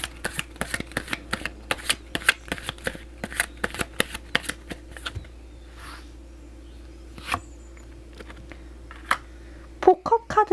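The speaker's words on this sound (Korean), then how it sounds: "조언 카드 한 장 뽑아보도록 하겠습니다" Tarot cards being shuffled by hand in a quiet room, a run of crisp riffling snaps and flutters in irregular bursts, pausing midway before a final flurry.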